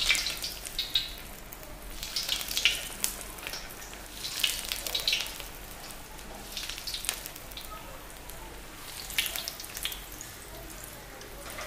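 Corn cheese balls fry in hot oil over a medium flame, giving a continuous bubbling sizzle with crackling bursts that swell and fade, close and fairly quiet.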